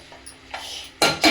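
A metal lid clinks down onto a cooking pot of chicken pulao, two quick close clanks at the end after a few faint kitchen rustles.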